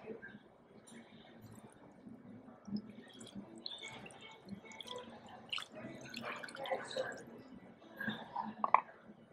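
Soy sauce poured into a bowl while preparing a sea bream head dish, a faint close trickle and drip under kitchen noise, with brief soft voice sounds.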